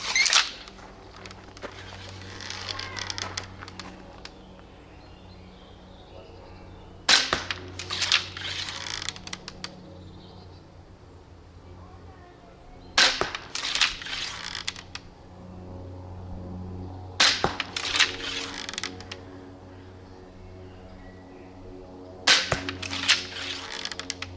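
A dual-wield crossbow fires five shots, each a sharp, loud snap with a brief twang, spaced several seconds apart, with quiet handling noise in between and no talking.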